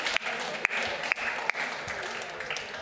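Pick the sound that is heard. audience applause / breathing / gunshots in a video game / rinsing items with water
audience applause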